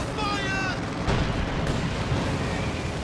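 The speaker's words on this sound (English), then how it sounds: "Incendiary round finishes off that MG" Heavy World War II strategy-game combat noise, with a booming incendiary round fire around the middle amid a steady rumble of explosions and gunfire, while a voice talks over part of it.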